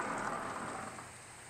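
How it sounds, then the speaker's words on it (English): Heavy rain pours down in a steady, dense hiss that fades slightly over a brief moment, with no talking. "It is pouring down rain"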